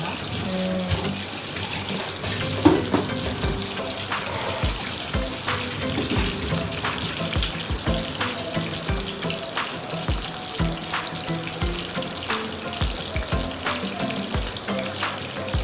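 Chicken frying in a pan gives a steady, close sizzle and crackle that runs throughout, dotted with small pops and scraping sounds.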